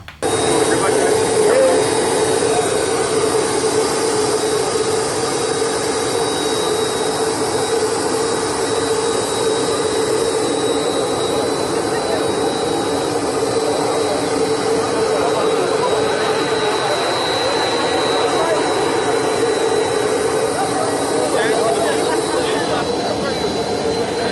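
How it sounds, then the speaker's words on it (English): A jet plane touching down in Abuja gives off a loud, sustained engine roar with a high whining tone that holds steady and unbroken throughout. "His plane touched down in Abuja."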